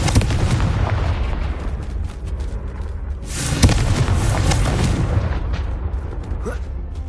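Confringo blasting spell in a video game, rumbling explosive booms and bursts layered over a continuous loud low roar, with a sharper blast near the middle.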